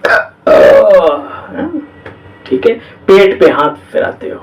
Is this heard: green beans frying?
no